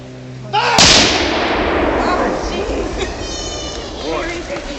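A cannon at Fort Clifton fires a one-pound black powder charge: one sharp, loud boom with a long, rolling tail that fades over several seconds, outdoors.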